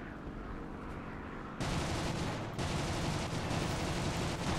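Aircraft guns fire during an attack on a B-17 bomber in the War Thunder video game, a dense, loud, continuous burst that starts abruptly partway through over a steady engine drone, with a brief dip before resuming.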